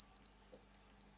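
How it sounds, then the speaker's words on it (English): A smoke alarm in Stanley Parable: Ultra Deluxe chirps its low-battery warning, two short high electronic beeps separated by a gap, faint and alone. "Smoke alarm batteries run out?"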